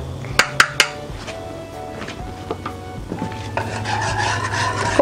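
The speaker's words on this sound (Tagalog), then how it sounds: "Haluin natin para matunaw yung ating asukal at saka yung ating condensed milk." A spoon clinks a few times against a container, then rubs and scrapes steadily while stirring a Milo ice candy mix of sugar and condensed milk, close and moderately loud.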